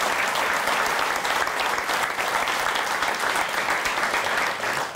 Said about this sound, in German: Beifall bitte.